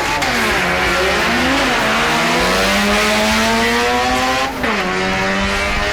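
A Rayglass 1200 Coupe race car accelerates hard at the Nationals in New Zealand, its loud engine note rising steadily through the gears with brief dips at each shift, close and continuous.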